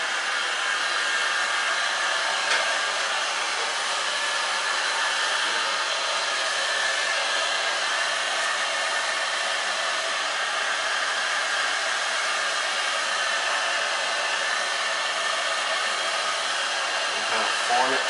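A heat gun blows steadily and continuously on a vinyl seat cover for an MTD Yard Man riding mower, a loud, close, unbroken airy roar with no talking.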